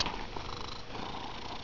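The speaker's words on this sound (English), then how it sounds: "I just wanted to introduce you to my cat, Max." A cat purrs softly and steadily up close, a continuous low rattling hum with no other sounds.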